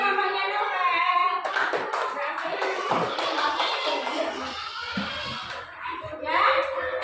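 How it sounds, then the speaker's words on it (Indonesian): Children in a classroom clapping for a classmate's mother, a burst of scattered hand claps mixed with kids' voices and chatter. "Tepuk tangan untuk mamanya Novel."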